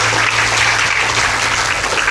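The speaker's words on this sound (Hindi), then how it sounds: "तालियों से स्वागत करें।" An audience at a Hindu devotional katha gathering claps in a dense, steady burst of applause that fills the whole stretch, loud and close, with no voice over it.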